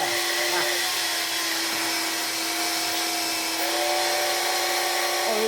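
Steady, continuous motor whine and airflow roar of a Vax Air cordless vacuum cleaner running after its filters were cleaned, with a constant high-pitched tone over broadband hiss, close and loud throughout.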